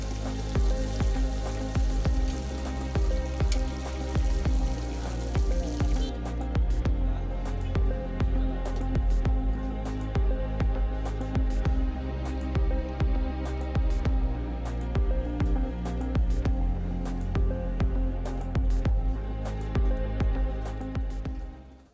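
First winter rain falling in Islamabad, a steady, dense patter of close drops and drips that continues evenly throughout with no voices.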